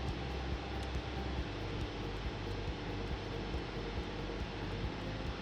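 Simulated propeller aircraft engine in Microsoft Flight Simulator 2024, a steady low droning hum with constant loudness throughout, set at reduced power for a descent.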